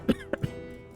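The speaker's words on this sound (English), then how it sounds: "It's never easy coughing up the things Lil stuffed inside me" A game character in Livber: Smoke and Mirrors coughs three short, wet times in quick succession, close and fairly quiet.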